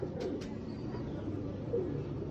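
Pigeons on a rooftop give low, soft cooing with a faint chirp or two, heard a little way off over a constant low background hum.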